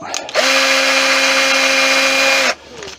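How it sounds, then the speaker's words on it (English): A power drill whirs at steady high speed for about two seconds, loud and close, drilling a hole in a wooden turned candlestick, then spins down and stops. "let's grab the drill"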